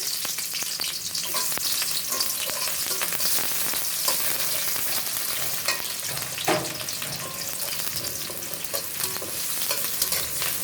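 Sliced onions fry in hot oil for a waterless meat curry, with a loud, continuous sizzle and crackle and occasional scraping stirs. No voices are heard.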